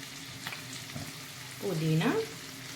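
Vegetables fry in a pan for bagara rice, a soft steady sizzle with light stirring. Partway through, a brief higher-pitched tonal sound rises over the sizzle.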